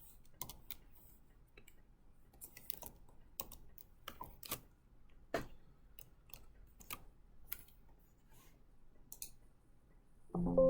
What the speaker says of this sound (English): I'm just going to type in legend.